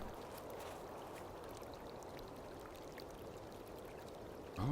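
Brook water flowing in a spooky point-and-click adventure game set in English countryside, a soft, steady trickling and gurgling stream running evenly throughout at low level, with a brief louder bump at the very end.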